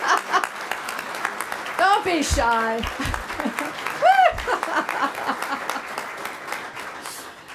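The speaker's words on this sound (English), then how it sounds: "we'd like to give you a round of applause as well." Audience applause at an award ceremony, crowd clapping continuously under a nearby announcer's voice, with some light laughter.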